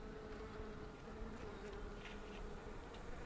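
Honeybees buzz at an open hive during an inspection, a faint, steady drone of many insects with a slight high whine, continuous and unbroken throughout.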